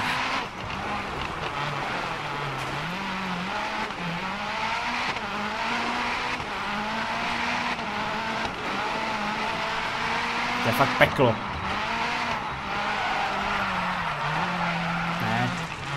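A rally car slides and skids through DiRT Rally. The engine drones steadily for the whole stretch, its pitch dipping and rising as it revs, with tyre scrub and a brief sharp crunch partway through. Someone talks over it.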